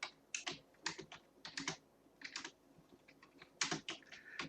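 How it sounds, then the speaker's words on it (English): Fingers type on a computer keyboard in quick bursts of crisp, close key clicks, with short pauses between clusters of keystrokes. "and I can type"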